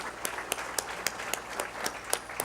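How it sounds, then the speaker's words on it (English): Applause from a conference audience honouring a project team: many hands clapping steadily at moderate volume, sharp regular claps near the microphone standing out from the softer crowd behind. "Can you please give a loud of applause to this team?"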